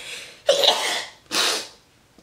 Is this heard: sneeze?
yes